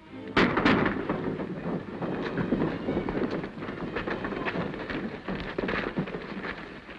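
Gunfire in a 1936 western shootout, a run of sharp cracks and bangs, some close and loud, others more distant, over a dense, noisy soundtrack with no talking.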